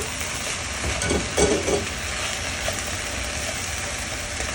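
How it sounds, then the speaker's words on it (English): Tofu being stirred into a pot of dashi sauce with shiitake mushrooms and kombu, a soft broadband simmer with a few brief louder scraping bursts of the spoon early on, then steady low bubbling, close by. "Okay, we're going to stir that up. And let's add our tofu as well."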